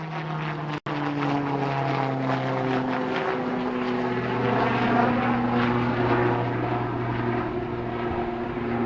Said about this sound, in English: The modified prototype of Saras PT-1, designated PT-1N, flying in front of you